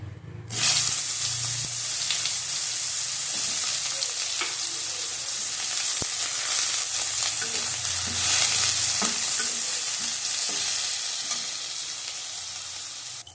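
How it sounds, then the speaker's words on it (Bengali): Eggplant frying in oil, a dense crackling sizzle starting abruptly and running continuously up close with occasional pops, loud and steady, with no talk. "বেগুনটা আগে ভেজে নেবো"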